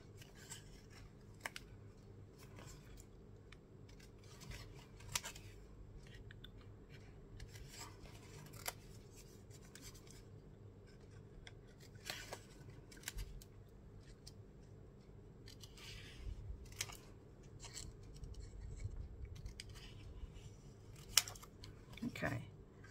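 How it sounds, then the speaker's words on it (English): Scissors snip through card for an easel card, a scattered series of quiet crisp cuts and paper rustles spread over a long stretch, close and faint. "I'm going to cut all of that off, except for right here."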